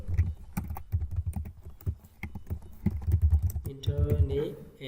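Quick taps on a computer keyboard while coding, a close run of irregular clicks that briefly gives way to a spoken voice near the end.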